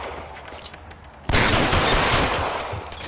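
Gunfire in the video game L.A. Noire, a sudden loud burst of rapid overlapping shots that erupts after a quiet moment and rattles on continuously to the end.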